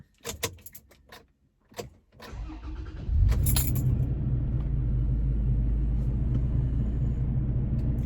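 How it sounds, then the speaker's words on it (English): A cold-started Toyota Tacoma with chopped exhaust, heard from inside the cab: clicks and key jingles, a starter crank, then the engine catches into a loud, steady low rumbling idle. "We're gonna do a cold start inside the cab with the chopped exhaust."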